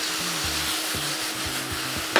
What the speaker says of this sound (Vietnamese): Các cụ mợ xào to lửa tí nhá.